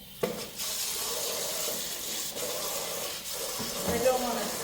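Tap water runs into a container in a kitchen, a steady, fairly quiet hiss of flowing water that continues unbroken with slight swells near the end.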